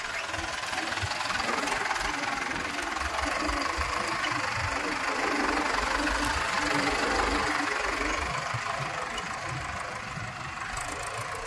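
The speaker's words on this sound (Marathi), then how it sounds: "ट्रॅक्टर चालवणे फार हेवी काम आहे" A tractor engine runs steadily throughout in a farm field, a loud, rough, continuous rumble with broadband noise and no pauses.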